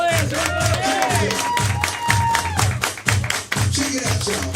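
Crowd at a live event applauding and cheering for players and volunteers, steady clapping and shouts under loud rhythmic music with a pounding beat throughout.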